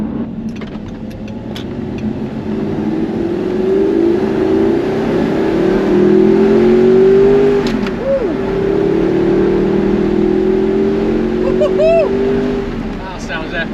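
An Audi R8 with a freshly rebuilt engine drives along, its engine and exhaust droning steadily and rising in a couple of brief revs, with someone talking over the engine note throughout.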